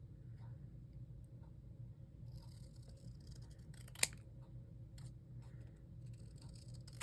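Scissors trimming paper for a handmade notebook, a few faint snips and one sharp click over a steady low room hum, no one talking.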